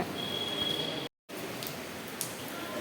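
Steady rain falling during a cyclone outside a closed temple in Pondicherry, a soft continuous hiss that drops out briefly partway through before resuming.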